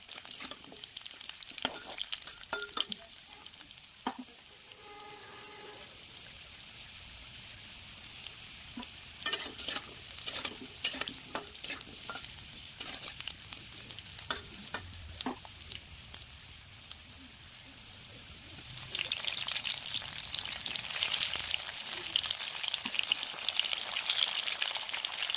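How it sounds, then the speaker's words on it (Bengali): Potatoes fry in a pan with a continuous soft sizzle, broken by scattered clinks and scrapes of stirring, and the hiss swells louder near the end. "আলুগুলো ভাজা হয়ে গেলে কেটে রাখা টমেটো দিয়ে দেব।"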